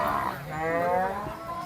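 A cow at a cattle market in Mandrup gives one long, loud, close moo that rises and falls in pitch, with no talking over it.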